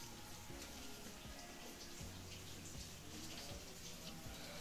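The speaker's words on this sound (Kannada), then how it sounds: "ಕಡಿಮೆ ನೀರು ಬರ್ತಾ ಇದೆ, ಬಟ್ ಫೈನ್" Harvested rainwater flows weakly through a pipe into an underground sump tank, a faint, steady, low rushing trickle with no break.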